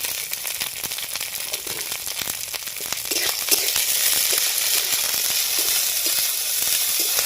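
Broccoli and mixed winter vegetables frying for chicken fried rice, a steady close sizzle in a pan with occasional stirring clatter, growing slightly louder midway and continuing without any talk.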